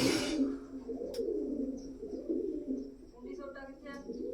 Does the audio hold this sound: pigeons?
yes